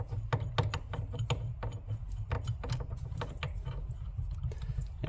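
Rapid clicking ratchet strokes loosening a bolt while installing a steering wheel on a 1987 Monte Carlo, a dozen or so sharp close ticks in uneven bursts over a low background hum.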